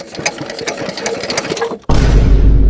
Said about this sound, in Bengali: পাইপ লাগা মেশিন স্টার্ট দে ওই যে হ্যান্ডেল স্টার্ট দে